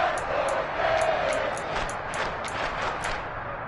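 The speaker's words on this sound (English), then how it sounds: "The crowd getting into it as we come up on a big 3rd down." Stadium crowd noise in a football video game swells into a broad, sustained roar of cheering and shouting, with scattered sharp claps or clicks over the top, ahead of a big third down.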